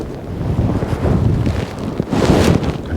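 Strong wind gusts across the microphone at a fishing lake, a continuous loud rumbling buffet that swells in surges and carries a broad rushing hiss, with no voices.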